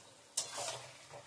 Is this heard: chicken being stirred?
yes